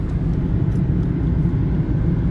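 A low, steady engine rumble of a helicopter passing overhead, droning evenly throughout with no voices.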